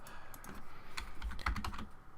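Someone types on a computer keyboard during C++ game coding, producing a close, irregular patter of crisp key clicks in quick bursts.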